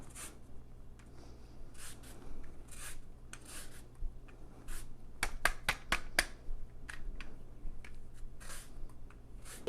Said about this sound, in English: So I also want to put some lemon zest in here. The zest from one lemon.